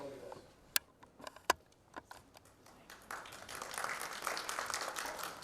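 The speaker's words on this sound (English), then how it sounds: "Guys, louder, one round of strong applause." Audience applause at a talk by a life coach and speaker, starting as scattered individual claps and swelling after a few seconds into a steady, moderately loud round of clapping.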